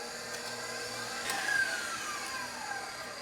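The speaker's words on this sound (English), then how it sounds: "We're gonna whip our heavy cream and our vanilla on high until it becomes light and fluffy" An electric mixer whips heavy cream and vanilla on high, a quiet, continuous whir that stays steady with a slight swell in the middle.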